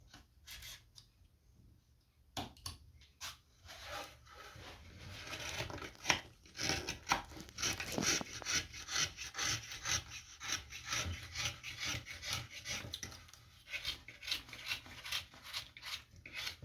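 A freshly sharpened knife carves a pumpkin. After a quiet start, it gives a continuous rasping, sawing scrape with rhythmic strokes that grows louder and carries on steadily.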